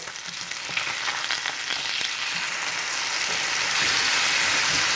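Salmon with teriyaki sauce frying in a hot pan, a continuous bright sizzle that holds steady and grows slightly louder toward the end, with no talking over it.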